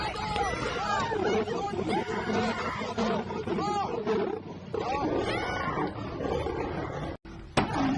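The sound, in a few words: male lion roaring in the film Prey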